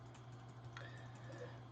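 Quiet computer keyboard typing of shortcut keys, a few soft, scattered key clicks over a steady low electrical hum, with no talking.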